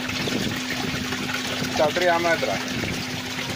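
A homemade 3D-printed brushless water pump runs steadily, a constant motor hum with water gushing and trickling throughout, while someone talks over it.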